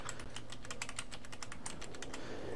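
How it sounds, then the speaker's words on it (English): An IP address is typed on a computer keyboard, a quick run of crisp key clicks in an uneven rhythm, close and quiet, with no talk. "I'm just going to type in an IP address here."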